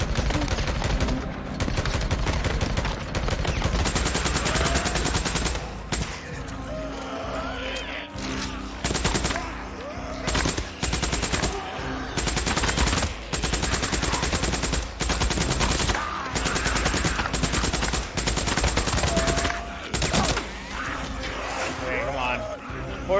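Heavy, sustained gunfire with flame ammo in Days Gone during a horde fight. Dense loud bursts run almost continuously with brief gaps, and someone talks over the shooting.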